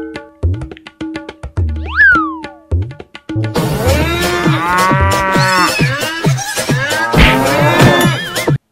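Cattle at a cattle market give several loud, drawn-out moos, some overlapping, with short gaps between the early calls before a long, rich bellow fills the rest.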